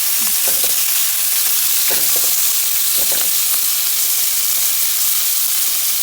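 Steady sizzling of bacon and cabbage frying in a pan, a continuous hiss with occasional stirring scrapes, close and fairly loud, no talking.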